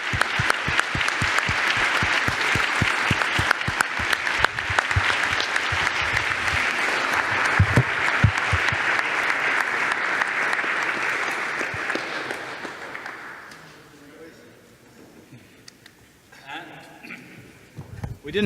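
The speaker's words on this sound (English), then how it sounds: "Please join us to clap for Thijs," Audience applause at a UIST 2018 closing ceremony, a dense sustained clapping from a large crowd that fills the room for about thirteen seconds, then fades to scattered claps and quiet room noise.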